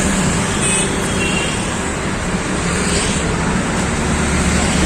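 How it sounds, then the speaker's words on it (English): Steady road traffic outside Lulu Mall in Bangalore, a continuous dense wash of car, bus and truck noise at constant loudness with no distinct passes standing out. "See the traffic, guys."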